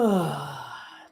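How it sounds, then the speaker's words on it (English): A single slow, deep breath, close and soft, fading out over about a second. "Take a deep breath."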